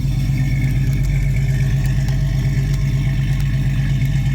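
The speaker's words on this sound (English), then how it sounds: "Those headers make a big difference in sound." A 1965 Ford Mustang's stock Ford 200 inline-six runs steadily through headers, heard close at the tailpipe as a loud, even exhaust rumble with a rhythmic low pulse and faint mechanical clatter, no voices over it.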